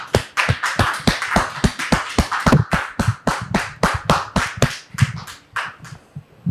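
A church congregation claps in a steady, fast rhythm of sharp, distinct hand claps, loud and close, continuing for several seconds with no talking before thinning out near the end.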